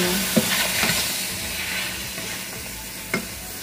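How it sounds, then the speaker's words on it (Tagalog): Chicken tinola is stirred in a hot pan, with a spoon scraping and a few light knocks over a continuous sizzle and hiss of frying. "I-mix natin ng mabuti."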